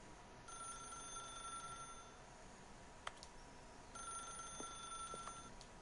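A telephone rings in the video game The Stanley Parable, a steady electronic ring that repeats in two bursts with a pause between them, faint against quiet ambient room tone, with no voices.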